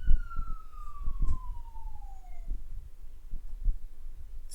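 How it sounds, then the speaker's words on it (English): A nearby ambulance siren wails in a single long descending tone that fades out over a couple of seconds, with scattered low knocks and faint background noise around it. "There's an ambulance."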